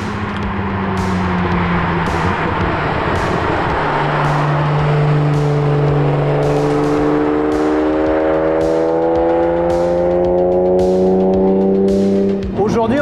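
A Ferrari Testarossa's flat-twelve engine pulls hard at full throttle, its loud rising howl climbing through the revs in long sweeps with a brief shift break, close and continuous from inside the car.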